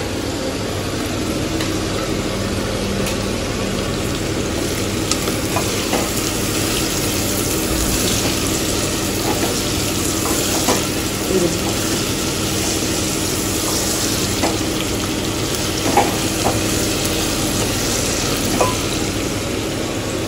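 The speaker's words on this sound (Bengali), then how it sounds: "তাহলে পেঁয়াজটাও তাড়াতাড়ি ভাজা হয়ে যাবে।" Chopped onion frying in oil with salt, stirred now and then, makes a loud, continuous hiss with occasional light scrapes and taps scattered through it and no one talking.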